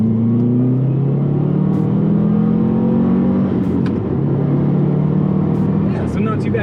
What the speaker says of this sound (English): let's see if we can get some exhaust noise going here now